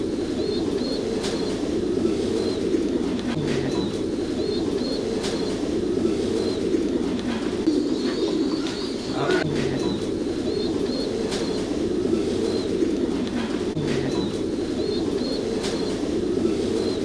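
Many pigeons coo continuously at a large Vietnamese pigeon farm, a dense, steady chorus of low, throaty calls with occasional higher chirps, close and loud throughout.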